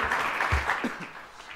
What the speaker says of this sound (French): Je vous propose de l'applaudir pour son intervention.